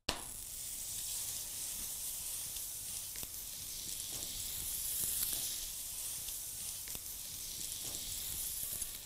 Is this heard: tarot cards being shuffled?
no